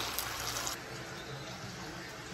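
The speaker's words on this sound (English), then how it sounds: "I'm gonna add the water now so it could simmer" Water pours into a cooking pot for chicken mole, a steady, faint broadband gush that continues without a break and is heard alone.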